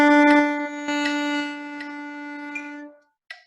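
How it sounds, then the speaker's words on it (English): A saxophone holds a single steady B for a whole note, a sustained reed tone with rich harmonics that fades out near the end, followed by a brief click. "We're going to play B, okay? And we're just going to play it for a whole note."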